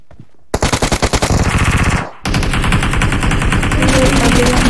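Rapid bursts of automatic gunfire in the PUBG Mobile game, a stuttering volley that breaks off briefly and then resumes as sustained loud firing.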